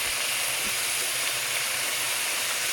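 Potato, Malabar spinach and pumpkin fry in hot oil with a steady, even sizzle and hiss, continuous and close, with no voices over it.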